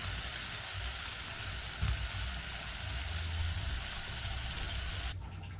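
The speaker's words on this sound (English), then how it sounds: "I'm boiling water to cook ugali so that I'll take with the kienyeji vegetables." Water heating in a pot for cooking ugali gives a steady, fairly loud hiss and bubbling that runs without a break and drops away abruptly near the end, with no talking.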